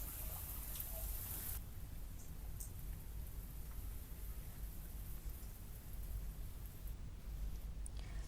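Heavy pre-monsoon rain falls on Jodhpur in a constant broadband hiss, even and unbroken, with a few faint sharper spatters near the start and end.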